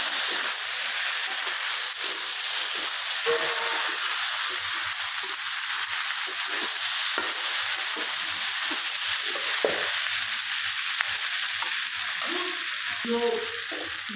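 Meat and cauliflower fry in a pan for egg roll filling, a dense steady sizzle running throughout, with occasional stirring scrapes and faint clinks underneath.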